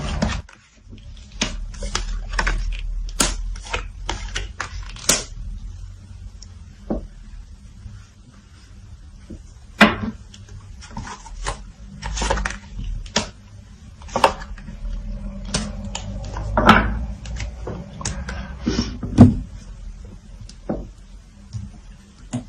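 A deck of tarot cards is shuffled by hand up close, making irregular sharp taps, slaps and riffling rustles in quick clusters with short pauses, in a quiet room.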